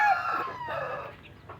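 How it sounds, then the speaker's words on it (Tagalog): A gamecock rooster crows nearby, a drawn-out strained call that trails off into short clucking sounds. "Yung mga manok. Na panabong pero hindi kami nagsasabong."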